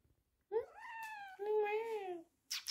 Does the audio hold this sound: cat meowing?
yes